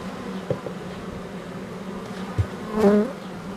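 Bees hum in a low, steady drone, with a louder insect buzzing briefly past near the end.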